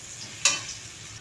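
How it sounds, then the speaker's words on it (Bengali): Beans and vegetables with salt and ginger fry quietly in a pan for chowmein, giving a faint, even sizzle broken by one brief scrape of stirring. "বিনস এগুলো সব আমি একবারে ভেজে নেব।"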